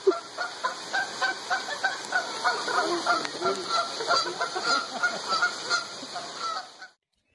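Repeated loud, nasal honking calls from a waterbird come in rapid bursts, noisy and close, continuing for several seconds before cutting off.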